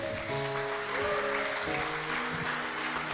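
A church congregation claps steadily over sustained music tones during a worship service, the applause a continuous wash of hand claps throughout.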